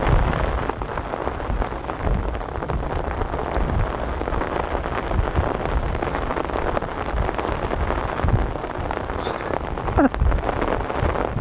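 A continuous downpour drums steadily at a US Air Force base in England that hosts KC-135 tankers and CV-22 Ospreys. The close, even wash of rain holds through the whole stretch with only brief small knocks.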